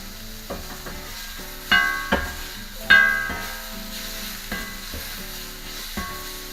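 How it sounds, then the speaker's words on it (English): Steak strips sizzling in oil on a hot steel plancha while being stirred and turned, a steady frying hiss broken by sharp scraping clanks of the spatula, close and fairly loud with no voices. "You're going to treat the steak as if you're doing a stir fry, so it's not going to stay in contact very long. Keep turning and turning."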